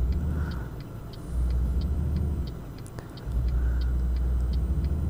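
A heavy truck engine in Euro Truck Simulator 2 pulls away, a steady low rumble that swells as it drives off, with faint regular ticking from an indicator over the top.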